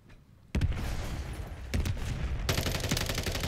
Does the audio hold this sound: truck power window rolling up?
no